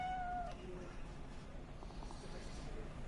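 A cat meows in the video game Cyberpunk 2077, a short call near the start heard over steady game ambience and low background noise.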